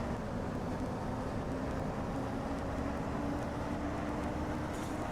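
London DMS bus engine in the OMSI 2 simulator, a steady low diesel rumble and idle-like drone heard continuously from inside, fairly quiet with no talking.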